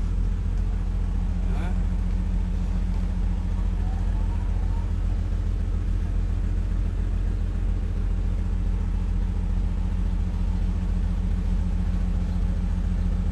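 A railway maintenance machine runs on the track, a loud steady diesel drone with a deep pulsing engine hum that holds throughout, with people talking briefly over it.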